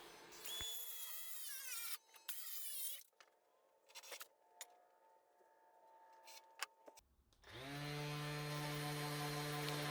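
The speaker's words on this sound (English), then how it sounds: "The next thing I'm doing is just cutting some strips to act as supports for the toilet" A power saw cuts wooden strips meant as toilet seat supports in a van build, with loud bursts of cutting separated by quieter pauses and a long steady run of saw noise at the end.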